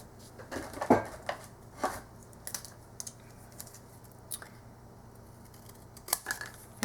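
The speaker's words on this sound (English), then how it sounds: "And cut a little piece" Scissors snip paper and card for a pop-up gift box, giving several crisp, close cuts in an irregular rhythm, separated by quieter handling and rustling.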